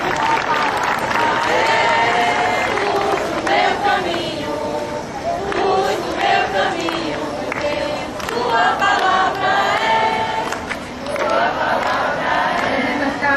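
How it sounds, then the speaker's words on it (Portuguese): A crowd at a parish Bible walk applauds and cheers, a loud, sustained roar of clapping mixed with voices and shouting that swells and dips across the stretch. "Uma salva de palmas para os três desfechados"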